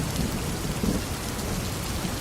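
Heavy rain pours steadily in a cartoon scene, a dense continuous wash of downpour with low rumbles of thunder rolling underneath, loud and unbroken throughout with no voices.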